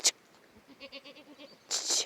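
Goats on a pasture give a short quavering bleat, faint and distant, between a couple of brief louder noises.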